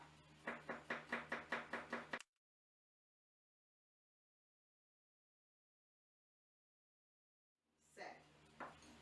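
Small knife chopping garlic on a board for an okra salad, about ten quick, even, close taps in a steady rhythm, then a long silence before a few softer kitchen knocks.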